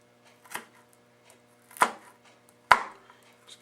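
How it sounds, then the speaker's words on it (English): Three light knife strokes through peeled garlic cloves on a board, a soft tap near the start followed by two sharper cuts, spaced apart in a quiet kitchen. "just kind of lightly cut it. Cloves of garlic, get them in there."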